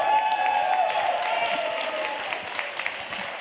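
A crowd at an awards show applauding, a dense patter of clapping that gradually thins and fades, with scattered louder claps near the end.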